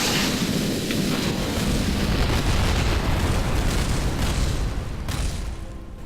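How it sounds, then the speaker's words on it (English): Continuous rumbling explosions from the Kerbal Space Program game, a dense roaring barrage of booms that stays loud and steady for several seconds with no speech. "So many explosions."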